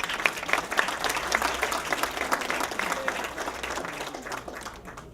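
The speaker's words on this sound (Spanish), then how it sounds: "aplauden." Applause from the crowd at a community commission event, steady clapping that holds for several seconds and then gradually fades out.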